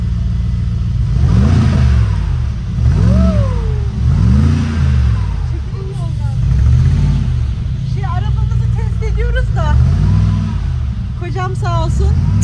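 A car engine revs up repeatedly in surges as the driver accelerates, loud and close, with people talking over it.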